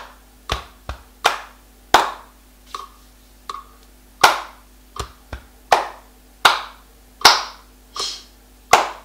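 Hands clapping a rhythm in a children's body-percussion music lesson: about fifteen sharp, close claps in an uneven pattern of singles and quick pairs, with short silences between them and no voices.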